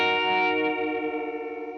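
A Gamechanger Audio guitar pedal running a pitch-shifting effect that comes across like chorus, giving a sustained, shimmering tone that wavers and slowly fades over a couple of seconds, with no voices.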